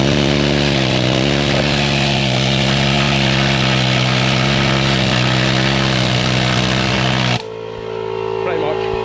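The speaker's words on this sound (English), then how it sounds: "It's just needle gunning all that." A needle gun hammers rust off a car body in a loud, continuous rapid rattle with a steady droning tone, close up and alone, cutting off abruptly near the end.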